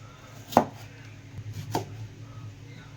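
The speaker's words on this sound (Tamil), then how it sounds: "கிழங்கெல்லாம் ஒரு இஞ்சி தடிப்பதுக்கு கட் பண்ணணும், ரவுண்டு ஷேப்பில்." Knife cutting potatoes into thick one-inch rounds, two sharp chops against a board about a second apart, close and fairly quiet with soft background hum.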